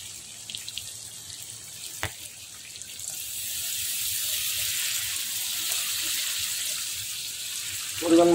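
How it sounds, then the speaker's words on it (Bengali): Water is poured into a pan of frying chicken meat, starting as a quiet hiss with a sharp clink, then building into a steady rushing pour and a sudden louder splash at the end. "পরিমাণ মতো পানি ঢেলে দেব।"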